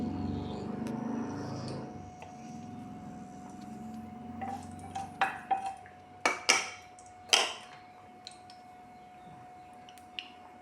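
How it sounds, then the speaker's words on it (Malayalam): Mustard seeds popping in hot coconut oil in a Kerala-style pan, a run of sharp crackling pops and snaps that start sparse, grow louder and clustered, then thin out to a final isolated pop, with no talking. "കടുക് പൊട്ടട്ടെ"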